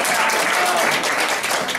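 Audience applause at an evening Bible school gathering, a dense steady wash of clapping filling the short moment at close range, with a voice faintly present underneath.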